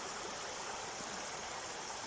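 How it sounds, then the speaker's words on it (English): The Wharnley Burn waterfall near Allensford rushes as a faint, steady, broadband wash of falling water, continuous and unbroken, with no voices. "Right, so we're going to take you guys up this waterfall."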